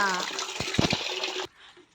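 Water being changed for chicks, poured and splashing in a close, bright burst that stops abruptly, with a brief quieter trickle after.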